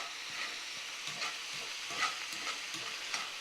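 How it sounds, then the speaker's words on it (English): Onion cooks down in a pan for a Puerto Rican pernil sandwich, making a soft continuous sizzle with scraping stirs and a few sharper pops. "we're going to let that onion cook down in there with it"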